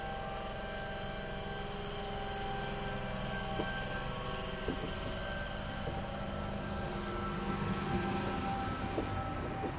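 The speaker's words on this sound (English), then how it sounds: "here departing from platform" A Sydney train departs from the platform at Woodford station, a steady loud rumble and drone with hum and occasional clanks throughout, no talk.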